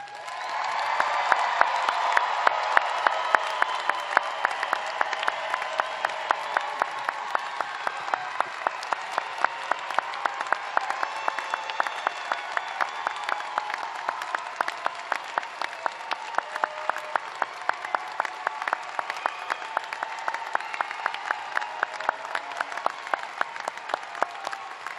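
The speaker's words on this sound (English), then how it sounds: "I assure you these graduates have richly earned that applause." Large crowd applauding at a law school graduation hooding ceremony, long sustained clapping with occasional cheers and whoops, loud and continuous throughout with no speech over it.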